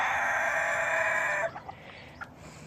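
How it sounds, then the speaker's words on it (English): Chickens and a rooster in a farm chicken run crow and cluck, with one long loud crow followed by a few short scattered clucks close by, and no talking. "That's our chicken run there."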